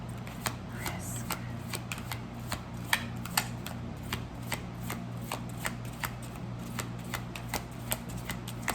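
Tarot cards being shuffled for a reading, a steady run of crisp riffling flicks repeating for several seconds over a low constant hum, close and clear with no one talking.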